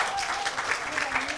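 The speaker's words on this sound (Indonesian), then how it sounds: "Beri tepuk tangan dong buat Dr." Audience applause for Dr. Tiwi at a parenting talk with steady, moderately loud clapping throughout, some voices and cheers mixed in.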